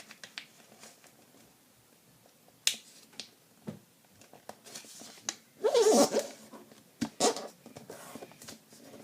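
Paper is folded and creased for an origami flapping bird, with close, quiet crinkles, sharp snaps and rustling bursts that come in irregular handfuls, the loudest swishing run near the middle.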